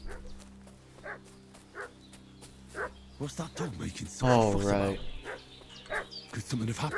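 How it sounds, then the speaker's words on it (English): A dog barks and yelps repeatedly in the medieval video game Kingdom Come Deliverance 2, with sharp barks spaced out at first, then a cluster of louder howling yips, while someone talks in between. "What's that dog making such a fuss about?"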